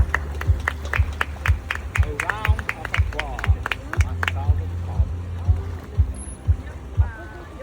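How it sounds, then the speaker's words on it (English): Audience applause at a dolphin educational presentation at Atlantis, with bursts of clapping and crowd noise mixed with splashing and busy background sound, fading near the end. "Let's give Soul and S2 a round of applause."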